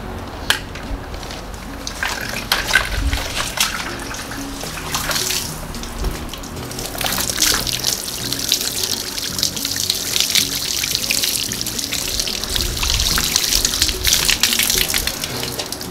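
Tap water runs steadily for rinsing, a continuous gushing splash that rises and falls as the stream hits surfaces, close and fairly loud throughout.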